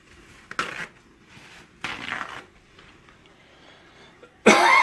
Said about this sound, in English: Got a little cough going on there,